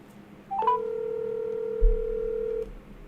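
A phone line cuts out on a live call-in show, leaving a short electronic disconnect tone: a couple of quick rising beeps, then one steady tone held for about two seconds before it stops, heard alone with no talk.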